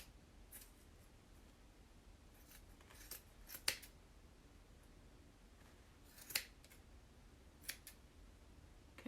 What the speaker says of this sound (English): So I'm gonna use these scissors. So you just get in there and start cutting them.